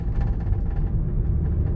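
A 2023 Mercedes-Benz A200 A-Class facelift drives slowly through a residential neighborhood, its engine and road noise a steady low rumble heard from inside the cabin.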